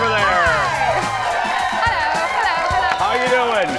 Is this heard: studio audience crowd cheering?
yes